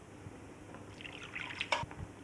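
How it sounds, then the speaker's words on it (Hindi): Water poured into tamarind and plum pulp, soft splashing and trickling that builds briefly, quiet and close with a few drips at the end. "तो इसमें और पानी डाल लेती हूँ मैं।"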